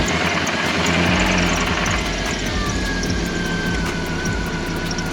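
A Jeep's 5.9-liter engine runs at a loud, rough, steady idle right up close, with a rhythmic ticking on top of a deep rumble.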